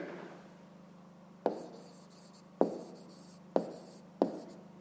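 A pen writes numbers by hand on paper in a quiet room, faint scratching broken by four distinct taps or strokes spaced about a second apart.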